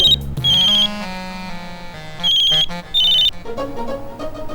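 A telephone ringtone rings loud and close in bursts of bright electronic tones with music-like melodic notes between them, no voices.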